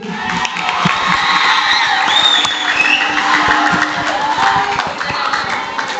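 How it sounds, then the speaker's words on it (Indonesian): A crowd of school students at a Ramadan boarding event claps and cheers loudly, a sustained wash of applause with children shouting and whooping throughout. "Oke, tepuk tangan dulu"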